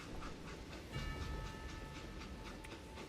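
A train car rolls along the tracks in the Western shooter Call of Juarez: Gunslinger, a steady close rumble with light rhythmic clatter throughout and no voices.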